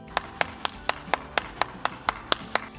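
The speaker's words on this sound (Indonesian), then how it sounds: "Tepuk tangan dulu buat Super" Children clap together for Super Kids during an online Sunday school session, about a dozen crisp, evenly spaced claps in a steady unison rhythm, close and fairly loud with no talking.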